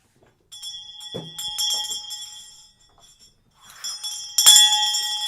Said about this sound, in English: Where's my shame bell?